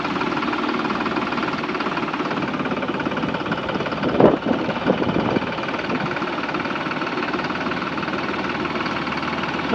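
A turbocharged, intercooled TMR TT Classic tractor engine runs steadily at close range, a continuous knocking diesel drone with a brief louder clatter midway before settling back to an even idle; no one speaks.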